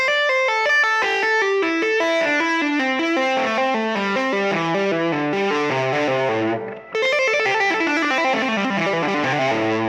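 Distorted electric guitar rips through fast pentatonic licks, a rapid stream of saturated notes with a brief gap near the end before the run resumes, loud and close with no talking.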